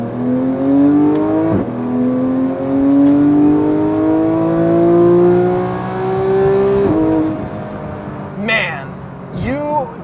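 Porsche GT3 sports car engine revving hard toward 9,000 RPM, a loud close rising howl that climbs steadily, drops briefly at a gear change, then climbs again before lifting off, with brief speech near the end.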